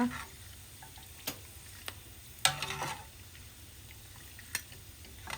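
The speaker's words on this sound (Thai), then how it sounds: "ตัวหนังหมูเขาก็เริ่มแตกแล้วก็กรอบขึ้นเลย" Pork skin frying in hot oil into crackling, with a steady soft sizzle and scattered sharp pops and crackles breaking through at irregular intervals, close and fairly quiet.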